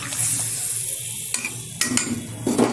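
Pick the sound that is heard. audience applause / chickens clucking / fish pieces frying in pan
fish pieces frying in pan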